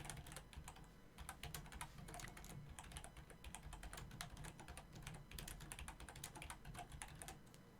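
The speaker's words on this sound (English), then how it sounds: "that's a really loud keyboard" Loud computer keyboard typing clatters in quick irregular bursts of keystrokes throughout, close and continuous, with no talking over it.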